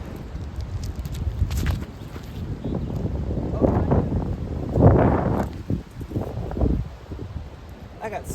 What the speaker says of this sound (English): Like I said, it's pretty windy today.